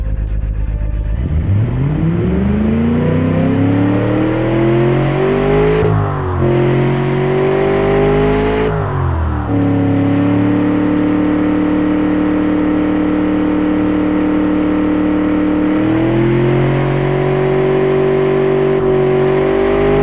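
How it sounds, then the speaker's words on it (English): A Chevy LS2 replica V8 in the game Automation revs repeatedly, each pull climbing in pitch before dropping back, then settling into a steady, loud, rumbling drone with a final rise, alone without talk. "the engine sounds very, very good. Sounds powerful, torquey, which everything you want in an LS engine."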